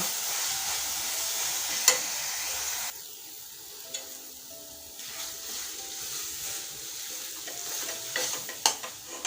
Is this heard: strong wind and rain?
no